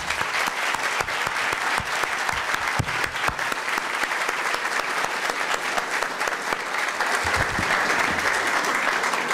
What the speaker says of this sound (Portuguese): E eu gostaria de pedir uma salva de palmas para o Dr. Ministro.